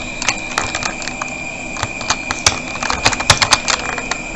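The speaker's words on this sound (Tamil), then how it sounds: "கிறிஸ்துமஸ்னு டைப் பண்ணியாச்சு." Rapid, uneven clacking of computer keyboard keys while text is entered during Photoshop banner design work, a steady run of crisp close taps with a few louder strikes and no talk.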